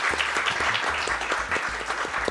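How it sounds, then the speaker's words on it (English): An audience applauds at the RPG Limit Break 2023 speedrun event during a Super Mario RPG: Legend of the Seven Stars run, a brief, dense burst of clapping from a crowd. "Let's hear some applause for Mill."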